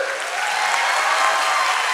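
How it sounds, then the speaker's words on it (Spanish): A crowd in a theatre at a live stand-up comedy show claps for a professor in the audience, a sustained, even roar of applause that stays level and full throughout. "Aplausos para el profesor."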